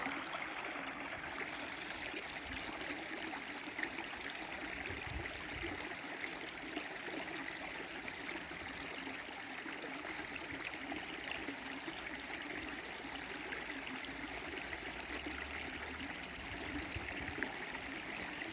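A creek flowing through snowy woods, a steady soft rush and trickle of water that runs evenly and fairly quietly throughout, with no voices.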